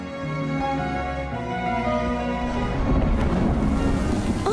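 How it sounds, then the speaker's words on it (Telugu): Rain falls steadily at night in a film scene, with a low rumble of thunder beneath it, a continuous soft hiss that grows denser and louder toward the end, with no talking. "వర్షం ఒకటి పడుతుంది"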